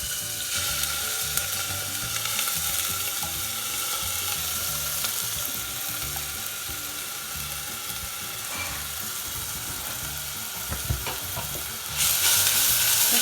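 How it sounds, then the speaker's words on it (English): Onions frying in a few teaspoons of oil on a high flame for a cauliflower and chana dal dish, a dense, even sizzle with faint stirring scrapes throughout and a louder burst of hissing near the end. "I'm going to roast these onions for 2 to 3 minutes on high flame"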